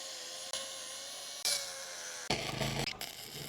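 A grinder works steel brackets being fitted for a torsion axle on a boat trailer. It gives a close, sustained high whine in a few back-to-back passes, with the pitch shifting as contact with the metal changes.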